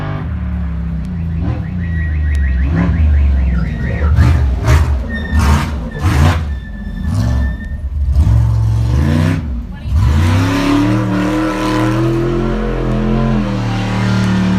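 An Ultra 4 off-road race car roars past at a desert endurance race, its engine revving and swelling loudly then sweeping away, mixed over a commentator talking throughout.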